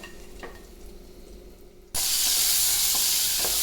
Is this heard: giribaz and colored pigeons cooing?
no